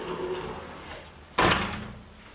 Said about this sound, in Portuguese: E fecha a porta de entrada.